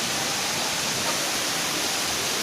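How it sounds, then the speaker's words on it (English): Tada waterfalls, reached on an adventure tour, give off a dense, steady roar of rushing water that fills the whole moment without a break, close and loud, with no voices. "at last we reached waterfalls over here"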